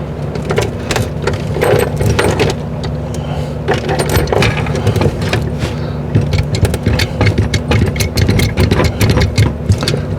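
A hydraulic crimper runs while crimping broken cable on a popup camper, giving a loud, steady motor drone with scattered clicks and rattles throughout and no voices.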